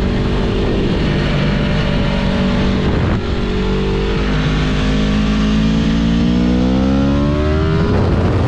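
A tuned 2022 Aprilia RSV4 Factory 1100 sport motorcycle revs loudly and continuously, its engine note holding steady and then climbing in pitch as it accelerates, with no talking.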